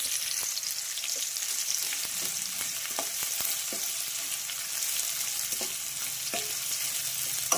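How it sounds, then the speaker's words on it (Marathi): Dry red chillies broken into hot oil for sambar sizzle and crackle steadily with a few sharp pops, close and continuous with no talk. "आणि हे चांगलं फ्राय करून घेणार आहोत आपण।"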